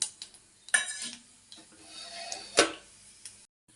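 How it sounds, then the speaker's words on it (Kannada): Mustard seeds splutter in hot oil and ghee in a pan, giving scattered faint pops and crackles with a few sharper snaps over a soft sizzle. "ಇವಾಗ ಇದಕ್ಕೆ ಸಾಸಿವೆ ಹಾಕ್ತಾಯಿದ್ದೀನಿ ಇದೊಂದು ಸ್ವಲ್ಪ ಚಟಪಟ ಅಂತಂದಮೇಲೆ"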